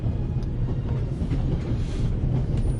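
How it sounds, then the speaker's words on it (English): Out-of-control train in the Alps from the game The Raven Remastered, a loud continuous low rumble of rolling wagons with faint rattling, steady and close. "And now you're here, on an out-of-control train in the Alps"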